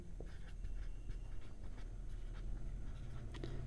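A pen writing on paper during a geometry lesson, a soft faint scratching of irregular strokes over a quiet room hum.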